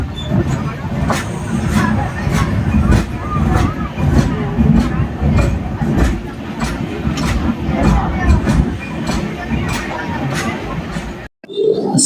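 The Tirupati–Coimbatore Intercity Express rolls slowly into Salem Junction, with steady wheel rumble and rhythmic clicks over the rail joints under a murmur of passenger chatter, ending in a brief drop-out.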